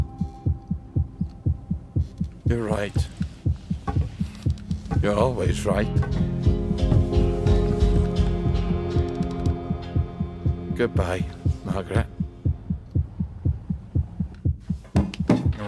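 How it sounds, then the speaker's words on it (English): A heartbeat pounds steadily throughout, the low-health sound at zero hit points in the game We Happy Few, with dialogue in British accents and a sustained hum over it. "we're hearing our heart pounding the whole time because we're at 0 hit points"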